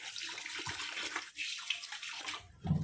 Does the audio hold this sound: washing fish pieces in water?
yes